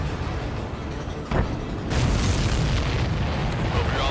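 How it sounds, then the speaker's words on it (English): A large explosion in the jet combat game Ace Combat 7 booms out, with a sharp burst followed by a loud, sustained rumbling roar. "Did you see that explosion?"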